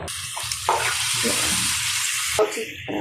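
Pumpkin greens stir-frying in a pan with salt, green chilli, onion and garlic, giving a loud continuous sizzle broken by a few stirring scrapes, with no talking.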